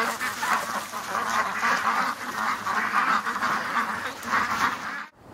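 A flock of ducks quacks loudly and continuously, agitated and restless on a windy day outdoors, with steady wind noise underneath and no voices.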